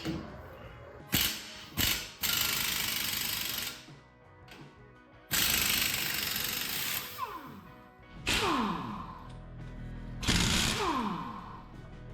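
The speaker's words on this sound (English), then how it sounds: "I'm gonna use a 21 millimeter to remove these bolts." Ratchet with a 21 mm socket loosening bolts on a Ford F150 during a lift kit install, giving bursts of fast clicking pawl ticks separated by pauses and clanks of metal, close and fairly loud with no talk.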